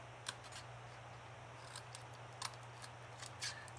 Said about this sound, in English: Just cut right in there and trim.